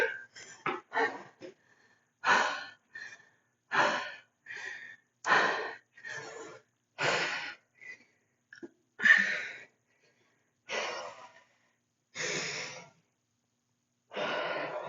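Heavy, rhythmic breathing from someone doing a kettlebell workout: a steady series of loud, close exhales and gasps, evenly spaced with short quiet gaps between them.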